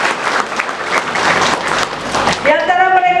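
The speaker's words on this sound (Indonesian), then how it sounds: "Tepuk tangan dulu dong buat mereka" Audience applause at a ceremony honoring health workers being sent abroad, dense steady clapping from a crowd for about two and a half seconds before a voice begins speaking over the fading claps.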